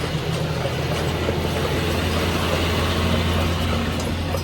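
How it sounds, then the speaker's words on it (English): A heavy vehicle rumbles past nearby in a steady, loud low roar that fills the whole stretch with no talking. "I'll let this truck go by."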